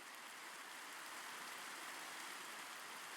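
Steady, dense rain hiss from a video game with no breaks, even and moderately loud throughout.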